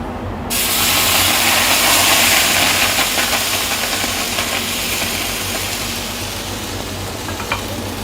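Pumpkin dosa batter poured onto a hot tawa gives a loud, steady sizzle and hiss that swells at once and holds, easing slightly as it goes on, with no talking over it.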